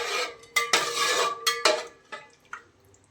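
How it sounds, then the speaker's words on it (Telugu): Metal pot and lid clatter in a home kitchen as water is stirred with a utensil before the pot is covered: several sharp clanks and scrapes in a loose cluster, close and fairly loud, with no talking. "ఇది ఒకసారి కలుపుకొని మూత పెట్టుకొని"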